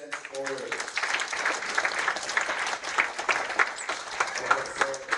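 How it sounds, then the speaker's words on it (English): Audience at a spelling bee applauds the spellers, winners and scorers, a lively burst of many hands clapping close by, slightly uneven and sustained throughout, with a little crowd noise mixed in. "one more round of applause for all our outstanding spellers, winners, and scorers"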